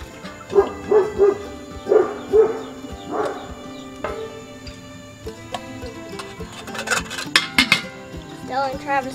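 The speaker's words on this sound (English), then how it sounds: "Oh, that dog." A farm dog barks in a few quick bursts outdoors, close and fairly loud, followed by clinking and rattling like dishes or metal objects, with children's voices faintly around.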